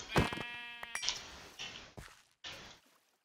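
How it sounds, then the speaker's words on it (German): Sheep bleating in the Minecraft video game, several short bleats in a row, fairly close and clear, with no talk over them. "Ein Schaf."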